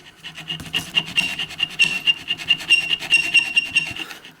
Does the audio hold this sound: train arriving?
no